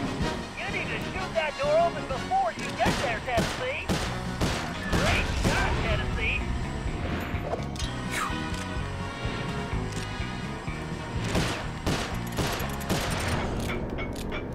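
Rapid gunfire from a shooting section of Sly Cooper: Thieves In Time, with sharp repeated shots and crackling bursts scattered across the stretch, mixed with game music and other effects.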